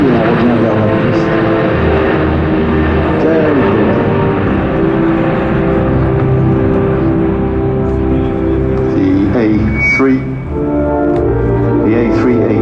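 Airbus A380 four-engine airliner on a low demonstration pass at the Paris Air Show, Le Bourget, gear and flaps down, a loud steady jet roar with a broad rumble, holding near-constant for the whole stretch.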